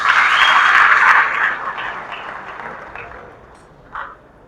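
Audience at a Mombasa education event applauding, a burst of loud clapping that fades steadily over a few seconds, followed by a brief late flurry of claps.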